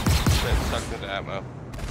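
Spaceship guns fire during a Star Citizen space battle, loud bursts of rapid shots packed together in the opening moments, then thinning into rumbling, crackling combat noise with voices in the mix.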